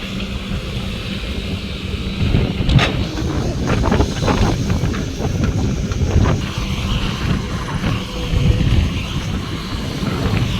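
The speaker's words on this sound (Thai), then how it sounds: "ช่วงนี้ก็ลมหนาวพัดมาครับ" Cold wind buffets an outdoor microphone with a steady low rumble and gusty roar throughout, rising and falling in waves, with a few brief higher bursts.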